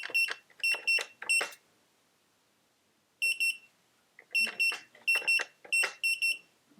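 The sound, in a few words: gun safe keypad beeps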